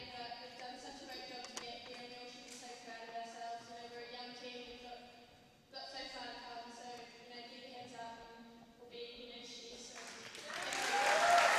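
A crowd at a basketball grand final in East Doncaster claps and cheers continuously, the applause broad and sustained, dipping briefly midway and swelling louder toward the end, with a voice speaking over it.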